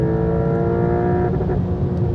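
Porsche 992 Turbo S six-cylinder engine droning at high revs from inside the car, a hoarse, steady tone with strong harmonic bands and a slight wobble midway, loud and continuous.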